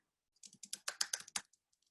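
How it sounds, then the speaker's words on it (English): Quiet, close clicking of keys on a computer keyboard in a short burst of about a dozen rapid strokes, then a few scattered taps. "I'm going to type"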